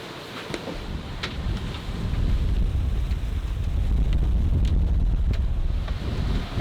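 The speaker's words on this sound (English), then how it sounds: "The wind's at 120 degrees and we have 24, 25 knots of wind." Strong 24 to 25 knot wind roars across a sailing catamaran, with loud, steady buffeting and a low rumble of water and hull beneath it, broken by occasional sharp knocks.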